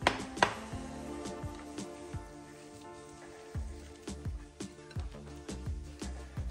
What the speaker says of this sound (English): I beat my egg quickly with a fork and then add it straight to my mixture